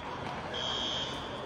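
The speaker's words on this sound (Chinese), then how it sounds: "火警！" A building fire alarm sounds as a steady high electronic tone that starts partway through and holds, under loud continuous crowd noise and chatter.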